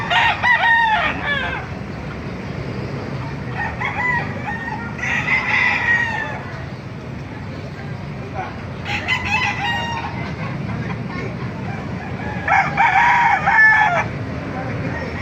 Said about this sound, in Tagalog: Mga manok dito sa Baliwag yan mga master.